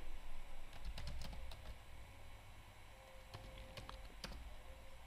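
Typing on a computer keyboard while starting a Django server on Windows 10, with a few scattered, faint key clicks over a low steady hum, alone without speech.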